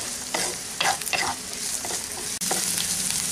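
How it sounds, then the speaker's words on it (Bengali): Finely chopped onion for keema paratha sizzles steadily in a hot pan, with a few close scraping stirs breaking through the continuous frying hiss. "পেঁয়াজটাকে খুব ছোটো ছোটো করে কুচিয়ে নিয়েছি। এখন এগুলোকে একটু ভেজে নেব।"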